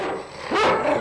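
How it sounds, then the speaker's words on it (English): A big, fierce-looking guard dog lets out one loud, close bark or yelp after a moment of background noise, with no talking. "He's a scary looking dog"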